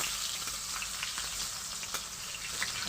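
Eggplant pieces sizzle steadily in hot oil in a pan, a close, continuous frying hiss with faint scraping as the pieces are turned over.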